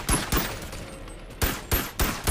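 Gunfire in the VR game Bone Lab: a quick burst of close, loud shots, then a brief pause before three more sharp shots in a row.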